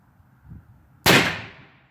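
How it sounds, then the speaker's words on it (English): Side curtain car airbag set off by hand, a single sharp explosive bang after a second of quiet shuffling, its blast decaying over half a second. "there's your side curtain airbag. That explosion will protect you in an accident, I guess."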